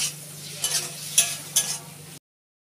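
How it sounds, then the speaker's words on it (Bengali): Prawns frying in a pan in a home kitchen, giving a steady oily hiss with a few louder sizzling bursts as they are turned, close by, with no talk. "এদিকে আমার চিংড়িটা ভেজে নিক"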